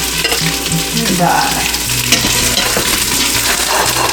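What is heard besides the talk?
turkey meatballs browning in Instant Pot on saute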